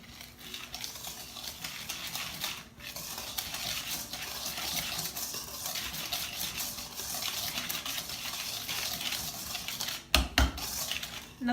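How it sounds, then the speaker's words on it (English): Vegan chocolate chip muffin batter whisked in a bowl, a steady rapid scraping and clinking of the whisk against the bowl close by, ending with a few sharper knocks. "Then you can add that in and give it a nice whisk."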